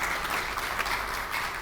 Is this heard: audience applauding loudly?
yes